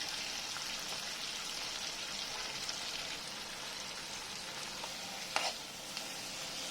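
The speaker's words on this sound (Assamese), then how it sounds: "এতিয়া এইখিনি ভালকৈ ভাজি ল'ম।" Ceylon spinach sizzles softly in a wok with potato and tomato, a faint, steady hiss with an occasional light scrape or clack from stirring.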